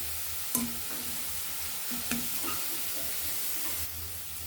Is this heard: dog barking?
no